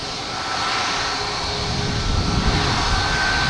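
A JetBlue Airbus A220 arrives from Miami at Boston Logan, its engines a steady broadband roar with a faint whine on top, fairly close and growing slightly louder, with no talk over it.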